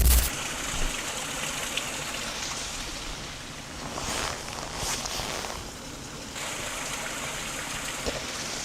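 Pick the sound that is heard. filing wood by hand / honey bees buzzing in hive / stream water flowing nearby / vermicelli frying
stream water flowing nearby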